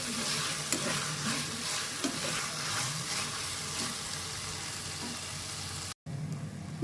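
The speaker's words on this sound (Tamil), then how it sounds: "நீங்கள் எந்த அளவுக்கு வெங்காயம் தக்காளி வதக்குறீங்களோ" Onions and tomatoes sauté in a pan for chicken biryani, a steady close sizzle with stirring scrapes throughout, stopping abruptly near the end.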